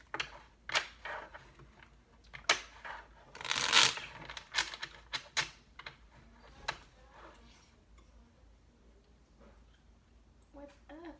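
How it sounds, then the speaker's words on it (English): A deck of cards is riffled and shuffled in quick, crisp bursts of flicking and tapping, close and fairly quiet, with a few soft clicks between. "Last shuffle."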